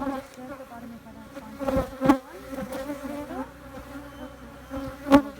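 Honeybees drone steadily around an opened hive during a first-time split. A few louder buzzes pass close to the microphone.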